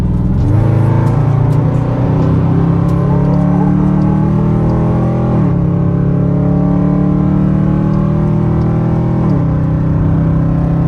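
A 2021 Dodge Durango R/T with straight-pipe exhaust accelerates hard at night, its loud, deep engine drone climbing through the gears with two distinct shift dips. The exhaust sound is close and continuous, with no talk.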